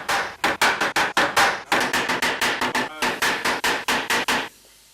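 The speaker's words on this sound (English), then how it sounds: "Okay, we then start nailing the nails. All of the prongs have to be driven in." Steady hammer blows drive nails through a metal nail plate into a wooden joint, about twenty sharp, close strikes in quick rhythmic runs with a brief pause between bursts.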